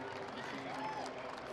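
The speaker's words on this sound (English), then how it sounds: "The applause just to my left is for the medalists who have been waving to the crowd" Crowd applause and cheering fill a stadium athletics meet as medalists wave and pose for photos, a steady, dense wash of clapping and crowd noise that holds evenly throughout.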